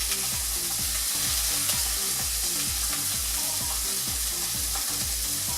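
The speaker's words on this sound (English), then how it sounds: "And then just allowing this to stir fry." Cabbage with a squeeze of lime stir-fries in a hot pan, giving a loud, steady sizzle throughout. A regular rhythmic scraping of the spatula repeats about twice a second over the constant frying hiss, and no one speaks.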